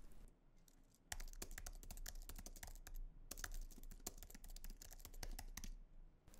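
Rapid typing on a computer keyboard while writing a git commit message, a dense, close burst of key clicks starting after a brief pause and continuing almost without break.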